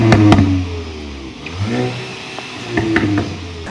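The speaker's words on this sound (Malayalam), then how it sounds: "ഈ വണ്ടിക്ക് ഇതിൻ്റെ 2 എക്സോസ്റ്റ് പൈപ്പുകളിലൂടെ വരുന്ന കഠോരമായിട്ടുള്ള നാദമല്ല, തീർത്തും രസമുള്ള എക്സോസ്റ്റ് നോട്ടാണ്" A Volkswagen Golf GTI's twin exhaust pipes give a short revving note, rising and falling engine tones with a couple of sharp blips, close and loud, no talk.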